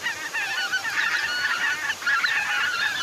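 A flock of geese in the video game Hunting Simulator honks continuously, many overlapping calls forming a steady clamor at moderate loudness, with no voices.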